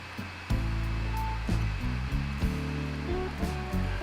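An overlocker sewing machine stitches the sleeve seams of a T-shirt, its motor whirring up in short, close bursts that repeatedly start and stop.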